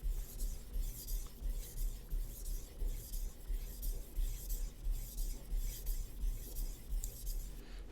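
A fillet knife being sharpened with steady, evenly spaced strokes, a rhythmic rasping rub repeating about twice a second, close and fairly loud with no talking.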